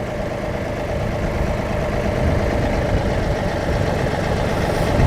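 A John Deere 2038R tractor idles as it pulls forward toward a 220R loader, its steady mid-low engine drone running close and unbroken, with no voices over it.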